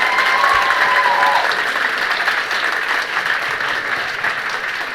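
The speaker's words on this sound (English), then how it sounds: "I'll give them a big round of applause." An audience at a high school band banquet gives the seniors sustained, loud applause. The dense clapping continues steadily throughout and eases slightly toward the end.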